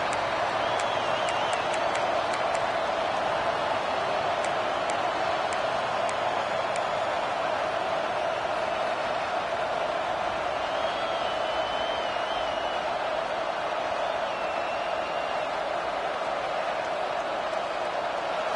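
A steady, dense roar from a stadium crowd cheering as the second half begins in an NCAA college football video game, continuous and sustained without breaks, with faint commentary voices beneath.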